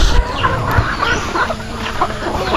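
Several free-range chickens cluck and chatter close by in a busy, overlapping flurry of short calls.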